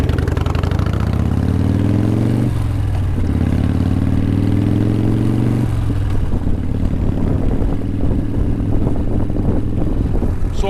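A 1988 Harley-Davidson Softail Custom rumbles steadily while riding, its low engine note rising through gear changes with clear shifts around two and a half and six seconds, loud and close throughout with wind noise and no talk.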